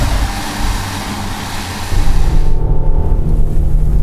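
A 2019 Mercedes E450 wagon in Sport Plus and manual mode accelerates, its engine surging into a louder, heavier rumble partway through, heard close from inside the car with no talk.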